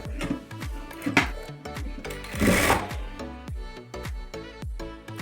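A sewing machine runs a seam on a four-tuck blouse, its needle clattering in a quick, even rhythm of sharp ticks with a brief louder surge partway through.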